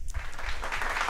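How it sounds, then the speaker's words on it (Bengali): An audience bursts into loud applause for a contestant, Prakash Sinha, and the dense clapping stays strong and even from start to finish. "এটা জোরে হাততালি প্রকাশের জন্য।"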